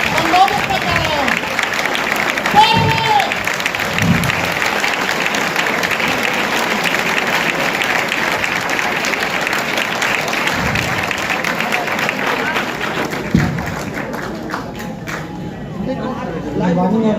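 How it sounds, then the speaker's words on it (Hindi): Loud, sustained applause fills a hall as an audience welcomes the speaker at a UPSC Civil Services toppers' talk event, dense clapping running throughout and easing slightly near the end. "चलिए जोरदार तालियों से सब तक स्वागत करेंगे"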